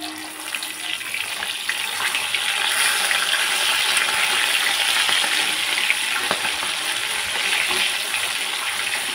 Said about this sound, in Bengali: আজকে হচ্ছে ইলিশ মাছ ভাজা